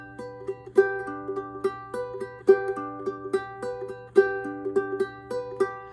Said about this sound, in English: The first one would be to do a picking pattern of some sort.